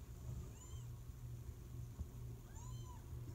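A small kitten gives two high, thin meows about two seconds apart, close by, over a low steady rumble.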